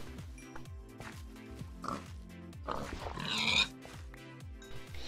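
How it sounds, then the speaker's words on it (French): A pig in a video game grunts and oinks several times over a repeating, rhythmic game soundscape, with one louder burst of snorting near the middle. "Viens ici le cochon."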